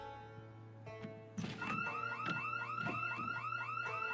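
Car alarm in Project Zomboid starts after a quiet stretch with a thunk, then whooping, rising alarm tones repeat steadily and loudly over a low background hum.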